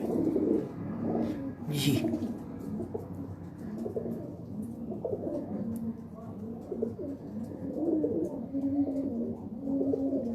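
Breeder pigeons coo in low, repeated throaty bursts close by, continuing under a man's brief spoken reply and background murmur.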